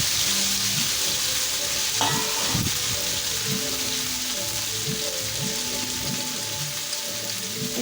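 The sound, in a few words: okra and potatoes frying in fish oil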